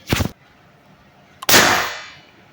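A gas-powered Valken M17 airsoft pistol fires on full auto in two sharp bursts: a short rapid clatter, a pause, then a louder burst with a ringing decay.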